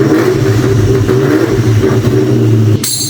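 A Ford SVT Cobra on a dyno, running on Nitto 555R tires, revs hard and loud at high RPM with a steady strained engine roar that cuts off abruptly near the end.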